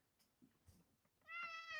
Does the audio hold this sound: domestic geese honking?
no